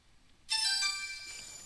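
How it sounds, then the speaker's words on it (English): Phone ringtone for an incoming call during a Minecraft building session: a bright, electronic multi-tone ring starts suddenly and holds steadily, loud and close, with no talking over it. "Oh, phone call."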